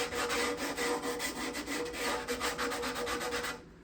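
Sandpaper rubs back and forth over a guitar's back binding in quick, rhythmic strokes, close and fairly quiet, stopping just before the end with no voices.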